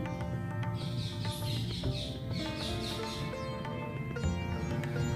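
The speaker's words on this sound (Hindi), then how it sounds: "बाहर की जो आवाजें हैं, चिड़ियों की चहचहाहट, किसी प्रकार की कोई आवाज है, उसके प्रति आपको अवेयर होना है।" Outdoor birds chirp in a quick repeating pattern of short, high calls over a steady hum of background noise, moderately loud throughout with no voices.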